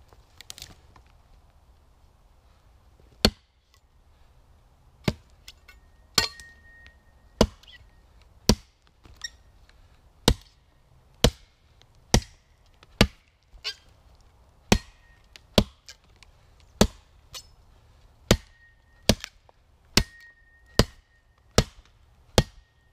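A shovel swung as a chopping tool outdoors in a forest, sharp percussive chops striking roughly every second in a steady rhythm, close and distinct against a quiet background.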